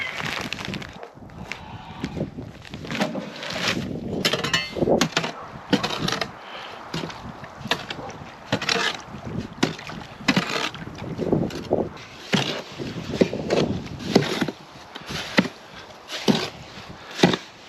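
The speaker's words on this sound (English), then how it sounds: "So we'll grab a wheelbarrow here and a shovel. Let's get a batch of mortar mixed up for Papa Ryno." Mortar mixed with a shovel in a wheelbarrow during a guest house renovation: repeated scraping, chopping and sloshing strokes of the blade against the barrow, loud and close in an irregular rhythm.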